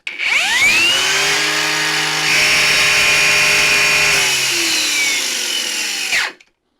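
A Parkside Performance 20V cordless angle grinder spins up with a rising whine, runs at a loud, steady high-pitched drone for about six seconds, then cuts off and winds down, close by with no talking.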